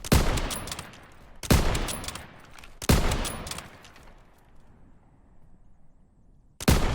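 Rifle fire in the video game Call of Duty 2021, with a Soviet-versus-Germany setting: four sharp, loud single shots spaced well apart, each trailing off into a reverberant decay, with no talk.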